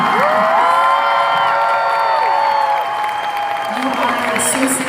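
A convention panel audience applauds and cheers with whoops, a steady roar of clapping underneath, while a voice speaks over it.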